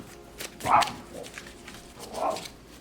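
A dog indoors gives two short, sharp yips or barks about a second and a half apart over quiet room noise, near and moderately loud.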